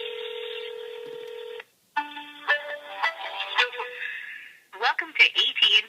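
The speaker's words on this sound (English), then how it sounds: "let's go ahead and dial 611 to make sure that this device is running on AT&T's network" Touch-tone keypad beeps as 611 is dialed on an iPhone 4S, a steady tone followed by short distinct button tones and rapid closing beeps, loud and close with no talking.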